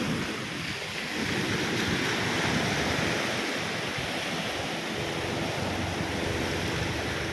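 Ocean waves wash in a dense, continuous roar at Jumeirah Beach in Dubai, with wind buffeting the microphone and no voices heard.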